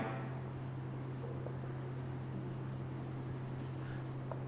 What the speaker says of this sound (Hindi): देखिएगा मैं स्टेटमेंट लिख रहा हूं यहां पर